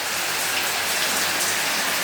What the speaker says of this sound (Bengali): এই যে ঝর্ণা ছেড়ে দিয়েছি দেখেন